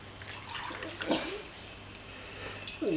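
Liquid for homemade honey bourbon being poured into a demijohn, a few soft gurgling splashes and trickles, quiet and close, briefly broken by short pauses.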